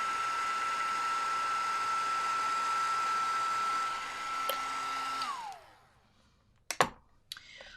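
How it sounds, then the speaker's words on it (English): Heat embossing tool blowing a steady, loud whirring hiss while melting embossing powder on a crafting project, then spinning down and switching off, followed by a few sharp clicks and taps. "let me get my heat tool warmed up and I will melt this powder"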